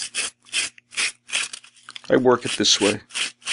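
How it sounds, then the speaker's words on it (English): Sandpaper held at an angle scrapes across watercolor paper pieces in a steady series of short, close rasping strokes, with someone briefly speaking partway through. "taking your sandpaper and holding the sandpaper on an angle"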